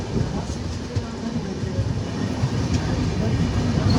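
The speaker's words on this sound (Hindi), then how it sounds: "okay, Tirupati Secunderabad superfast express, ये ट्रेन तिरुपति को जाती है" Tirupati–Secunderabad superfast express train rolling past, a steady, loud broadband rumble of wheels and carriages with faint rhythmic clatter, continuous throughout without a clear start or end.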